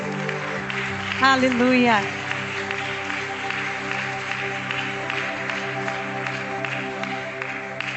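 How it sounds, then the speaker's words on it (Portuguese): Church congregation applauding during a Good Friday service, with a mid-level wash of clapping under a sung exclamation and continued voices and music. "vamos aplaudir ao Senhor."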